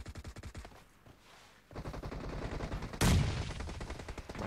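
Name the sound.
gunfire in video game PUBG Mobile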